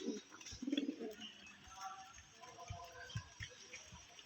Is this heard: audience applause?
no